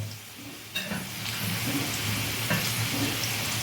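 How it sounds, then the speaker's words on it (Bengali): Steady sizzling of potatoes and kohlrabi frying in hot oil, a soft continuous hiss that swells after a brief quiet start, close by. "আমি আলু আর কপিটা ভালো করে ভেজে নেব"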